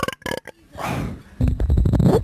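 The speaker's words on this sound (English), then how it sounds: "I've got a burp coming up." A man lets out a loud, drawn-out burp at an outdoor summer barbecue, caught on a 1991 camcorder, with brief voices before it and more talk and noise after.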